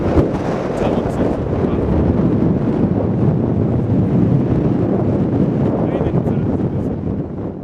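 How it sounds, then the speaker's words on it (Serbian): Strong outdoor wind beside a natural rock bridge roars and buffets the microphone in a steady, heavy low rumble with no break. "A vidite vetar kako duva."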